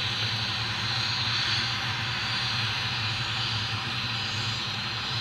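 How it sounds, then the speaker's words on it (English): Airliners take off at Newcastle airport, giving a steady, loud jet engine roar. The roar holds continuously with no speech over it. "I've got some footage of the planes taking off, some airliners"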